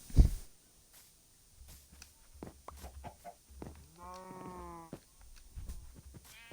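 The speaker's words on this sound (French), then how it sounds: "Rentre, bébé vache." Cattle lowing in a Minecraft-style video game, several short moos and one longer drawn-out moo, fairly quiet with small clicks and game noises between them.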